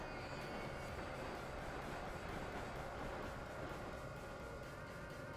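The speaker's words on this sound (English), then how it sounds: "Ooh, that was a double engine train." A steady, dense rumble of a double-engine train in Train Sim World on the Northeast Corridor, New York, runs throughout, loud and continuous, with rhythmic clatter and a faint high whine layered over it.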